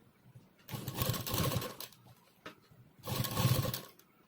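Sewing machine stitching a folded length of elastic, two short bursts of rapid mechanical rattling separated by a pause, fairly quiet and close, with no talking.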